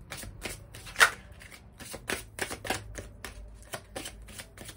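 Oracle cards being shuffled close up, a rapid series of crisp papery flicks and riffles with small pauses between bursts, with no talk.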